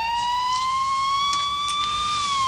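An emergency siren sounds as a steady high wailing tone with bright harmonics, holding a nearly constant pitch with a slight rise, continuous and fairly clear throughout.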